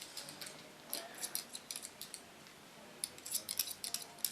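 Scissors snip short curly platinum blonde hair close by, quiet bursts of crisp metallic cuts arriving in quick clusters with a short pause in the middle and no talk.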